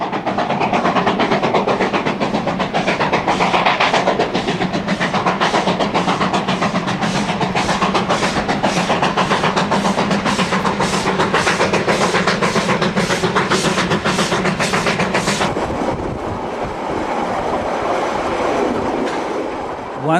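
A Trans-Alpine passenger train runs through rugged New Zealand mountains, its wheels clicking in a loud, rapid, regular clatter up close that cuts off abruptly near the end, leaving a rumbling roar.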